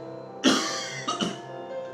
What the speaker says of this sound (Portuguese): tô tossindo muito